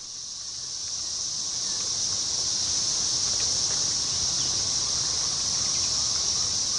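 A dense, steady chorus of periodical cicadas drones at a high pitch in a forest, rising slightly at first then holding constant.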